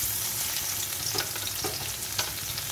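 Garlic sizzles hard in hot oil with black cumin, a dense crackling hiss carrying on without a break, broken by a few soft stirring scrapes, close and fairly loud with no voices.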